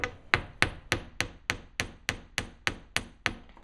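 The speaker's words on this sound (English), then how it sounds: "I'm just going to go ahead and hammer on one side of it" Steady hammer blows on a brass earring piece, about a dozen sharp strikes evenly spaced roughly three per second, close and clear with no talking.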